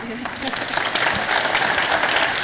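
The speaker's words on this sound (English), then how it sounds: "Round of applause for Michigan State and the Detroit Economic Club." A crowd claps steadily in a dense burst of applause, with voices mixed in underneath.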